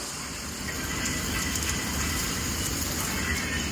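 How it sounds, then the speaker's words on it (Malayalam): Steady, dense rain patter hissing continuously, like heavy rain drumming on a roof, with no voices. "അടിപൊളി മഴ നല്ല രസമാണ് കാണാൻ നമുക്ക് വീട്ടിൻ്റെ മുകളിലോട്ടൊക്കെ വെള്ളം വീഴുമ്പോൾ"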